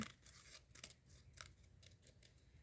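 Quiet, close snips and rustles of scissors cutting through paper, several irregular cuts in a row with no talking.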